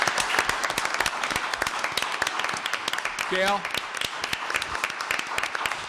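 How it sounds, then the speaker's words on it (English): Applause at a town board meeting in Kent, New York: a crowd claps steadily throughout, a dense patter of many hands with a voice speaking over it partway through. "these ladies in this committee deserve a round of applause"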